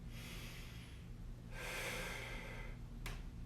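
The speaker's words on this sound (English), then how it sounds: "we're going to take a nice deep breath in" A deep inhale during a hip mobility stretching sequence, a broad airy breath swelling in the middle of the clip after a softer breath, with steady low background hum and no talking.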